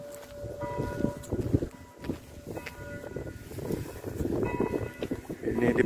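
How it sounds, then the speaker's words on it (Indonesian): Church bells ring the hour at 11 a.m. in Poland over busy outdoor background noise, their tones sounding repeatedly at a distance amid rumbling traffic. "Setiap jam lonceng di gereja selalu bunyi"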